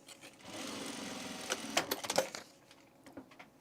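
A sewing machine stitches men's pants in a steady run of about two seconds, ending in a few sharp clacks, then fades to quiet handling.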